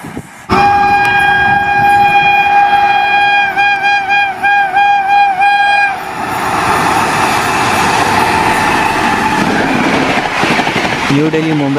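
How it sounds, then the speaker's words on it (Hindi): The New Delhi–Howrah Rajdhani Express, hauled by a WAP 7 electric locomotive at about 130 km/h, sounds a long loud multi-tone horn with pulsing blasts, then roars past close by as carriages rumble and clatter. "New Delhi Howrah Rajdhani express 130 per hour WAP 7 locomotive."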